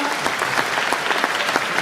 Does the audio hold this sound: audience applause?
yes